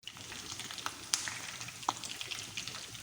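Flour-coated chicken wings pan frying, a soft, fairly quiet crackling sizzle with irregular pops and spits, steady and close without any voices.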